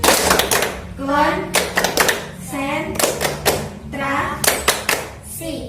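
A class of children performs a rhythmic concentration clap during a Qur'an lesson, crisp patterned bursts of claps alternating with their chanted voices in a repeating call-and-response rhythm.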